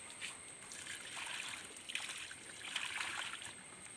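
Groundnut oil cake solution fertilizer poured from a container onto an ivy gourd plant, a steady soft trickle and splash of liquid running for several seconds, close by with no talking.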